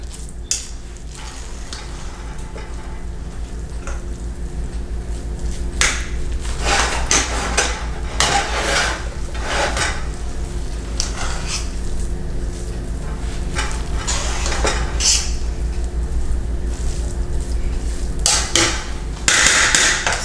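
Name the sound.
stirring oil in a pot while cooking Jamaican ackee and saltfish rice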